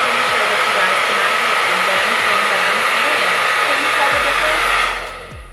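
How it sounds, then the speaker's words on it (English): An ordinary blow dryer blasting loud and close with a steady broadband whoosh, then winding down near the end as it switches off. "This is our regular old blow dryer"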